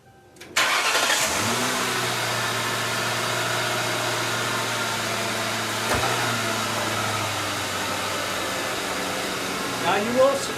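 A car engine cranks and catches, then idles steadily while warming up, a close, even hum with a faint whine, a brief click midway and a small rise in revs near the end.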